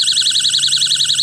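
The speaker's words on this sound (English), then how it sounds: "Now, the mini alarm also functions as a personal alarm. You simply pull the button on the top," A mini motion detector travel alarm used as a personal alarm, emitting a loud, shrill, rapidly warbling electronic siren that pulses quickly and steadily throughout, close and with no talking.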